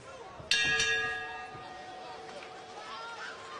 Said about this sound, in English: Obey the bell here, guys.